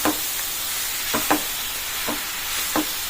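Puffed rice ugani being stirred in a pan, a few soft scraping strokes spaced irregularly over a faint steady background hiss.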